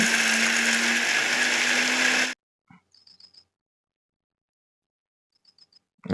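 A mixer grinder grinds urad dal batter with chillies and cumin, a loud, steady, close whirring drone with a low hum that runs for about two seconds and then cuts off abruptly, leaving a few faint clicks in near silence.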